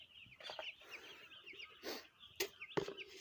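Chickens clucking and calling close by while being fed, several short bursts and sharp calls over a faint background.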